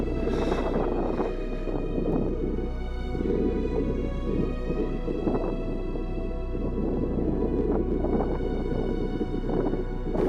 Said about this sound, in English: I got a headwind